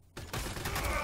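A burst of gunfire in the strategy game Warhammer 40,000: Sanctus Reach, starting abruptly and carrying on as dense, rattling shots close and fairly loud for about a second.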